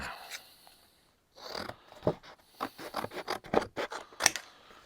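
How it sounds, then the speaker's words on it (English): Scissors cut material for a Freddy Krueger glove build in a garage: a series of close, crisp snips and scratchy slices in uneven bursts, with a brief pause before the cutting resumes. "Cut this up here."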